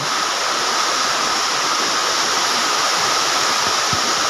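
Water rushes continuously, a loud broadband hiss like a stream or small waterfall, steady throughout with no voices.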